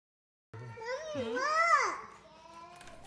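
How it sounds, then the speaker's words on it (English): Children whine in the background during a home kitchen backsplash tiling job, one drawn-out rising and falling whiny voice lasting a couple of seconds, fairly close and clear, then fading to quieter murmuring. "Another part of this ASMR experience is hearing my kids whine in the background."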